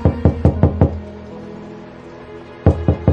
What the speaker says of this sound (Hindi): ये दरवाज़ा खटखटाता हूँ